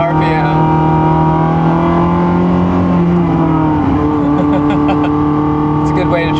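A car engine held at about 4,500 RPM in first gear, a loud, steady, close drone that rises slightly in pitch partway through, with road noise beneath.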